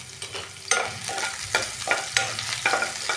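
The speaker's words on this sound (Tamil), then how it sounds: "இந்த ஆனியன் ஆட் பண்ணிக்கிறேன். ஆட் பண்ணிவிட்டு இது நல்லா ஃப்ரை ஆகிற வரைக்கும் நம்ம வெயிட் பண்ணலாம்" Chopped onion frying in hot oil for beef bonda, a steady close sizzle broken by several sharp scraping stirs of a spoon against the pan, with no talking.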